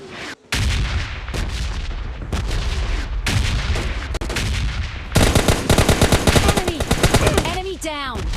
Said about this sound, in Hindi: घर में घुसते ही फायरिंग की आवाज़ फिर आने लगी